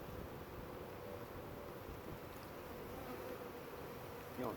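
A swarm of honey bees hums in a steady, dense, continuous drone outdoors, fairly faint and unbroken, with a light rustle near the end.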